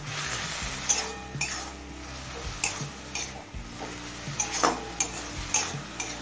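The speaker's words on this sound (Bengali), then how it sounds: "এবার মিডিয়াম ফ্লেমে এই জলটা শুকিয়ে আসা পর্যন্ত শাকটা ভাজা ভাজা করে নেব।" Susuni saag greens fry over a medium flame in a pan with a steady sizzle, broken by repeated scrapes and clinks of a spatula stirring against the metal, close and fairly loud, with no voices.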